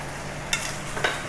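Shallots stir-frying in a pan for a Thai stir-fried noodle dish, a steady soft sizzle with two brief scraping stirs, close and moderately quiet.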